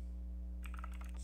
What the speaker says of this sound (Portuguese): Então vou digitar aqui, ó, undo